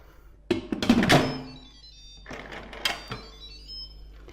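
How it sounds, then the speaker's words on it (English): Lid of an Instant Pot IP-DUO electric pressure cooker being set on and twisted closed: a cluster of plastic thunks and scrapes, then a second shorter clatter, close and fairly loud with a faint electronic chime in the background. "Then you twist on the lid."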